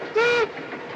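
A narrow gauge train on the rails sounds one loud, steady harmonic whistle blast of about a quarter second, followed by a low rumbling rail noise.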